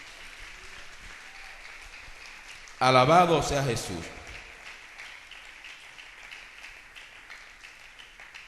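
A church congregation breaks into a short, loud burst of applause lasting about a second, joined by a raised voice, then fades back to quiet room tone with a voice speaking beforehand.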